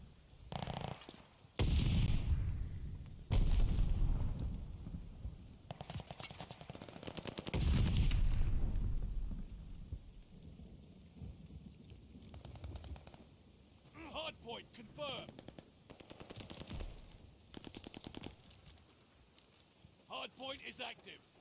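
Gunfire bursts and explosions from a Call of Duty Hardpoint match crack and rumble in uneven volleys, with game voice lines and quieter rattling shots between them.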